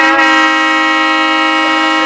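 A car horn blares in one loud, sustained honk that holds steady for about two seconds, close and with no other sound under it.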